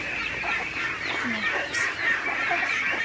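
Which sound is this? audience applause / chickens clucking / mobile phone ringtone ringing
chickens clucking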